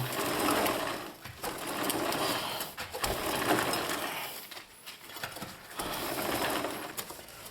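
Close-up mechanical whirring of a turning bike chain with fine gritty crackling, rising and falling in repeated bursts.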